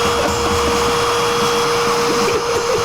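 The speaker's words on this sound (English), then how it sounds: "Not if I kill you with this chainsaw." A running chainsaw drones loud and steady throughout, a constant close motor whine with no pauses.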